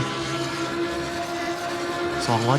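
A Lamborghini's engine drones at high revs in Assetto Corsa, driven with a Logitech G29 wheel. The tone holds steady, then drops and climbs again as it shifts into fifth gear near the end, with a voice speaking over it.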